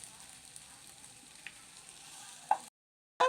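Chilli chapathi with curry leaves is stirred in a frying pan, giving a steady soft sizzle with faint scrapes before a sudden cut to silence.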